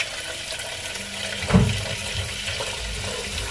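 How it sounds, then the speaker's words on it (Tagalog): Running water from a tap while raw chicken is washed in vinegar water in a kitchen sink, a steady hiss with a brief splashing clunk midway, close and moderately loud with no talk. "basta na nalubog lang siya sa tubig na may vinegar"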